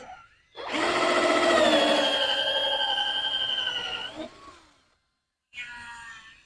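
A power drill whirs loudly for about three and a half seconds while boring a drainage hole in a half barrel, its pitch wavering, then stops; after a pause it starts again briefly.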